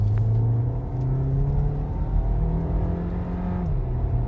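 A Volkswagen Tiguan R-Line SUV engine revs up steadily under load in sport mode, its pitch climbing in a smooth, sustained drone heard from inside the cabin, with no talking.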